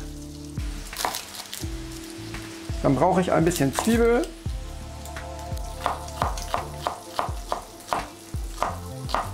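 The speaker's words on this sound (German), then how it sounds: "Mein Bacon ist hier noch schön am Ausbraten." Bacon frying in a pan gives a steady sizzle with bursts of stirring and utensil scrapes, while a person speaks briefly partway through.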